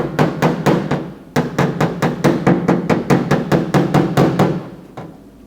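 Rapid, evenly spaced hammer blows ring loudly on the steel of a replacement lower quarter panel on a Holden Torana GTR XU-1 LJ, about sixteen sharp metallic taps in quick succession before the hammering stops.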